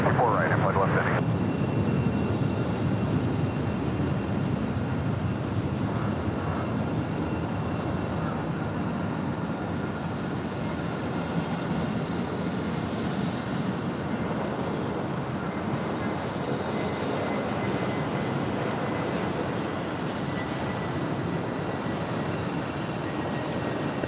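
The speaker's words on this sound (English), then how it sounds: "Next arrival is Hawaiian Airlines Flight 64 coming in from Lihue. It's a 3-year-old Airbus A321neo." Hawaiian Airlines Airbus A321neo airliner arriving at LAX from Lihue, a steady jet roar heard across the whole span with wind rumble, fairly faint and distant, holding an even level without a clear peak.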